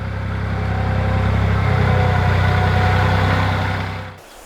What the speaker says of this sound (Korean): 탐스런 배를 가득 실은 트랙터 소리는 10월 말까지 아산 배나무골을 가득 채울 것입니다